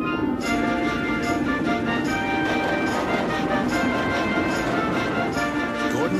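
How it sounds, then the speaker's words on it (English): A big steam engine hauling an express train rushes past on the rails, a steady, loud, continuous rumble and rattle of wheels and carriages that holds at full strength for the whole stretch. "Gordon's train rocketed past and was gone."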